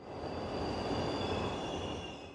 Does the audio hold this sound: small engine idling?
no